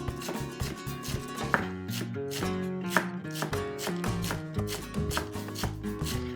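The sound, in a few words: chopping fresh herbs finely with a knife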